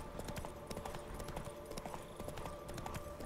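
Roach, the horse in The Witcher 3, clip-clops along in a quick, steady rhythm of hoofbeats. The sound is clear and fairly close, with no talking over it.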